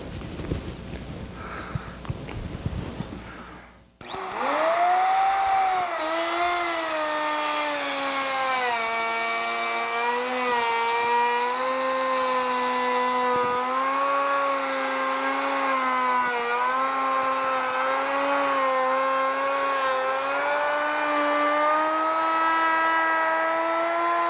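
A large bearing-guided router bit chamfers a wooden pencil post bed post, riding on a shim to cut a taper. After a brief rustle the router starts abruptly and whines steadily and loudly, its pitch wavering slightly as it cuts.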